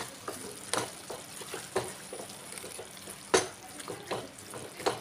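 Boiled eggs are stirred into a thickened, gently simmering egg curry gravy, a soft background sizzle broken by several sharp spoon scrapes and clinks against the pan, close and moderately quiet.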